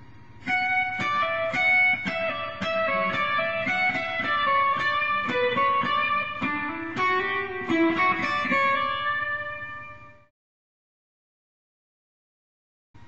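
Single electric guitar plays a clean melodic line of measure 21 of Pachelbel's Canon in D, a steady run of distinct picked notes with ringing harmonics that fades out, followed by silence.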